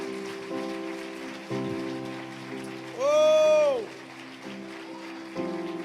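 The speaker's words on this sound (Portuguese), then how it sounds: "Antes, pode aplaudir o Senhor, você começou aí." A church congregation applauds, a soft, rain-like patter of many hands under sustained musical tones and a voice singing, with a brief sung exclamation rising above it midway.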